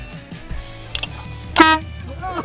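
A train horn fitted to a car gives a brief loud blast with strong harmonic bands, preceded by short hisses and clicks of compressed air being tested.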